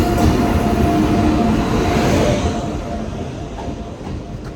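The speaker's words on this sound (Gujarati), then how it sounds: "હાલો તો ભાઈ ટ્રેન આવી ગયો" A train pulls into a station, a loud rolling rumble of wheels and carriages with a faint high squeal, gradually easing off as it slows, and no one speaks.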